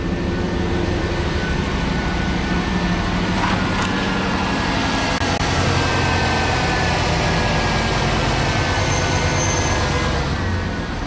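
A GM engine idles steadily just after startup, a continuous low mechanical rumble with a faint high whine, running loud and unbroken throughout.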